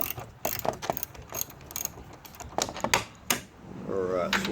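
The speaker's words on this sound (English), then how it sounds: "I just got a little 1/4 inch ratchet." A 1/4 inch ratchet removes bolts on the engine tins of a 2013 Hyundai Sonata 2.4L, giving quick bursts of close clicking, with talking in between.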